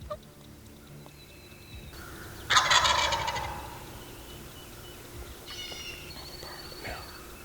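Wild turkey toms gobble during a hunt, one loud rolling gobble burst near the middle followed by fainter calls later, over quiet outdoor background.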